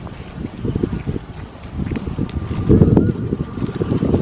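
Wind gusts across open grassland at Pullu in Thrissur, buffeting the microphone with a steady low rumble that swells in a stronger blast near the end; no one speaks.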